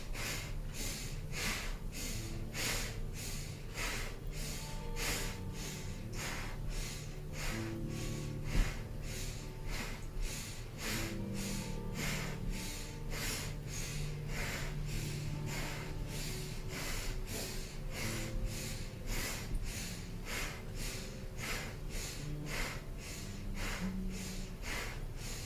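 Rapid breath-of-fire breathing from a Kundalini yoga kriya: a steady, fast, even train of sharp nasal pumps runs without pause for about twenty-five seconds, close and constant.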